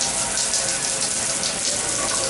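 Water runs steadily from a shower faucet in an apartment bathroom, a close, continuous broadband hiss of spray and splashing with good pressure, loud and unbroken throughout.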